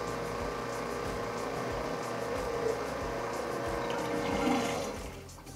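A small pump on a basement utility sink drones steadily as the basin drains, mixed with rushing, gurgling water that fades out at the end.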